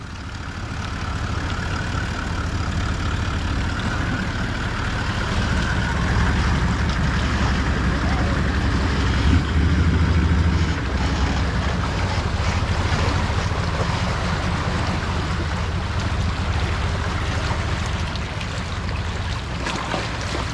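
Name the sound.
vehicle driving through water, wheel wash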